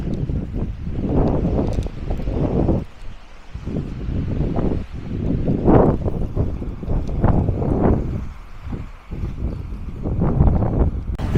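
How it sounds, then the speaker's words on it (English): Steady wind buffeting a microphone in gusts at the beach in Armação de Pêra, Portugal, rumbling low and continuous throughout with no voices. "You'll have to bear with me with the wind."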